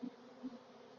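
A fallen swarm of bees on the ground gives off a faint, steady buzzing hum with a couple of slightly louder swells, close by and with no talk.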